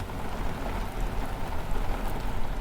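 Hail falls hard during a severe thunderstorm while a truck camper sits parked in the open, making a dense, steady patter that never lets up and fills the whole stretch with no voices.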